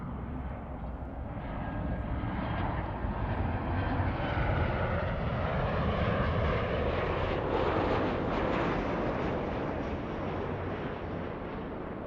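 A Boeing 737 jet passing near LAX, a loud broad roar that swells and holds steady across the whole stretch, with some wind buffeting on the microphone.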